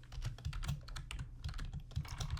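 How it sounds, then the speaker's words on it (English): Close, quick keystrokes on a computer keyboard form a steady run of soft clicks, with no talk over them. "So I'm just going to type"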